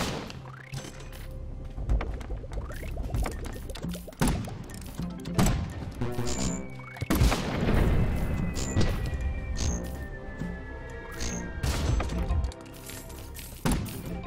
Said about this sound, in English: Let's see if I can get this grenade down there.